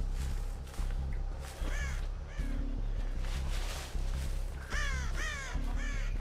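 Crows caw repeatedly at close range in Dead by Daylight, harsh calls coming in bursts over a pulsing, rhythmic low game drone.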